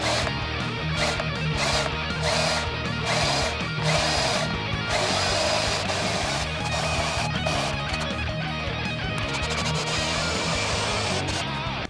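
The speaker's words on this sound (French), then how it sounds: "j'ai percé avec un diamètre de 11 mm parce que mon forêt de 12 mm est un petit peu voilé" A manual hand drill fitted with an 11 mm bit bores into a guitar body with loud, continuous grinding and rhythmic pulses from the cranking. No voices are heard.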